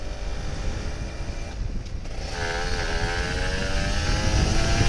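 A Kawasaki Ninja RR 150 motorcycle engine idling then revving up gently in short, light throttle blips, a steady droning two-stroke note rising in pitch, close by with no talk.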